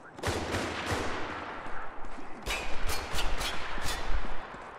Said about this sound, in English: Stop shooting at me, prick.